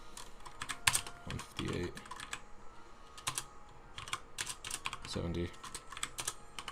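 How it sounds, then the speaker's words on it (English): Pokémon stats being entered on a computer keyboard: close, uneven bursts of clicking keystrokes with pauses, while someone speaks numbers aloud over them. "So I'm going to type all its stats in."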